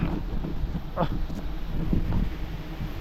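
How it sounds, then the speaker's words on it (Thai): Strong wind gusting high up in the trees during wild giant honeybee honey collecting in Thailand, a steady loud rushing buffet against the microphone with low rumbling throughout. "ลมแรงครับ"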